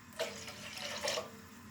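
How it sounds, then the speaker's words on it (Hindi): A short pour of water splashes into a pot of chicken and vegetable soup, a brief close liquid rush with two small surges, no voices. "थोड़ा पानी और डाल दें"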